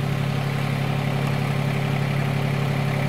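A John Deere tiller with a 647 engine runs steadily with a constant, loud mechanical drone and a low hum, unbroken throughout and with no voices.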